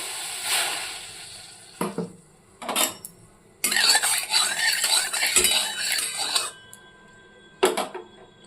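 A small amount of water goes into a kadai heating on the stove, giving short bursts of hissing and sizzling with metallic scraping and clinks between quieter gaps.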